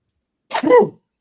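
A single sharp, loud sneeze close by, short and explosive, with silence before and after.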